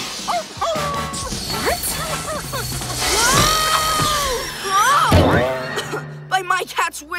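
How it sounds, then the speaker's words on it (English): Cartoon dogs yip and bark amid animated-show action, with a crash and excited character voices talking over the commotion throughout. "What is it about dogs? Yip, yip, yip!"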